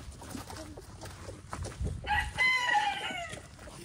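Silkie chickens, including blue silkies, in a backyard coop, with a rooster's crow and clucking rising in the second half over low rustling and background noise.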